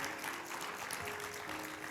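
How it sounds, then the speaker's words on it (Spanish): Church congregation applauding after a prayer, a dense wash of clapping from many hands filling the room steadily at moderate volume, with faint voices mixed underneath. "por favor, dale un fuerte aplauso al Señor"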